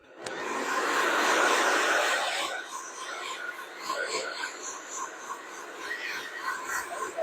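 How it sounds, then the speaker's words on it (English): A hair dryer blow-drying long, round-brushed hair during a salon haircut: a loud steady rushing roar that eases after a couple of seconds into a softer, fluctuating blow with faint voices. "Just blow drying through, making sure that that hair is moving and it's doing what I want it to do."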